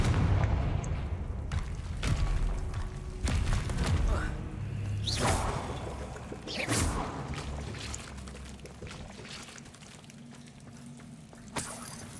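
Repeated Confringo blast spell explosions in the video game Hogwarts Legacy, several sharp booming bursts with whooshes spaced a couple of seconds apart, fading in intensity, with a voice speaking intermittently between them.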